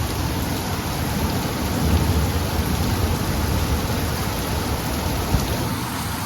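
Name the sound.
heavy rain with thunder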